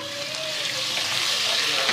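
Ginger garlic paste frying with lightly browned onions in hot oil makes a loud, steady, close hiss and crackle that swells slightly over two seconds, with no talking.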